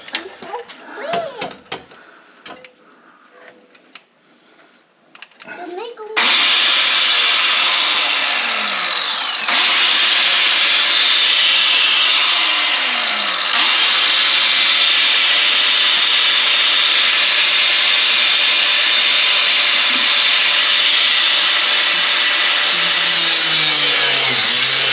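Broken bolt on a Buick being cut off with a power tool, a loud steady grinding whine that starts abruptly after a few seconds of quieter handling noises and runs continuously, close by.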